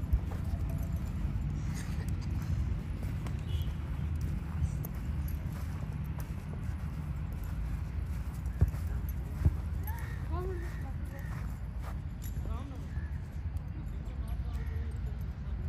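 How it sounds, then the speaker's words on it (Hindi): Horse hooves clip-clop softly as the animal is led at a walk for a riding session, a steady muffled rhythm set under near-constant outdoor talk and background noise. "राय साहब ने पहला घोड़ा ले लिया और इसको लीड करेंगे"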